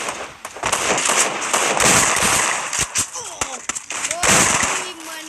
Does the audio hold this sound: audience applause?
no